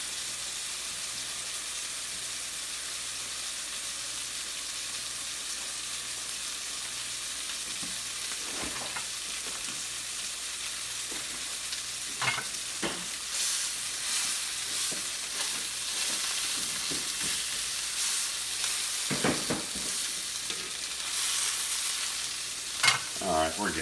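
Pork chops fry in a pan over high heat, giving a loud, continuous sizzle. Occasional clattering bumps of stirring or turning come through in the second half.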